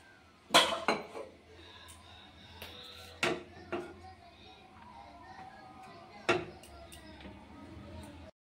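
A kadai, or wok, is set on a stove and oil goes in while egg curry is being made. A few sharp metallic clanks and knocks of cookware ring out over quiet kitchen background noise.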